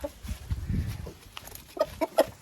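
Faverolles hens and a rooster cluck close by in a farm enclosure, soft low murmurs breaking into several sharper, louder clucks toward the end.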